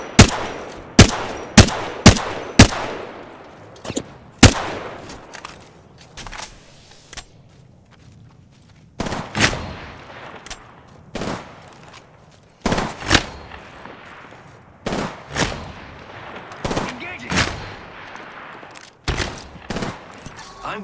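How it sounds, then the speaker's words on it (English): Enemy gunfire in a shooter video game, bursts of sharp shots in clusters, loud and close at first, then scattered volleys with a noisy background between them. "They're shooting at me."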